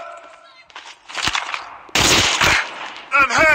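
Gunfire in the mobile game Call of Duty Mobile, with loud close bursts of rapid shots, an abrupt heavy volley near the middle and a sharper burst at the end, over a background of game noise.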